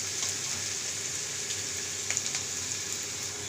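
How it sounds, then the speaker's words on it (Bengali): Potato pieces fry in hot oil after being turned onto their second side, giving a steady, even sizzle at moderate volume with a few faint pops and no talking. "আবার উল্টে দিয়েছি, আরও এক সাইডটা ভেজে নেব।"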